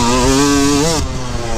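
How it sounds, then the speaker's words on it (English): A motorcycle engine revs loud and close after a missed gearshift, a steady rising drone that dips and drops off abruptly near the end. "I don't think my bike's running right."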